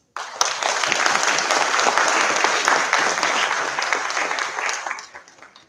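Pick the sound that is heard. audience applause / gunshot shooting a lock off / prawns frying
audience applause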